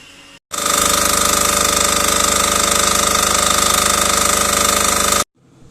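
A generator at a boiler house during a power outage starts abruptly and runs loud and close in a steady, rapid mechanical throb, then cuts off just as abruptly, with no talk.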